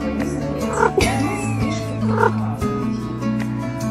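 A dog gives a few short barks and yips with a rough, growly edge, close and fairly loud over a humming background.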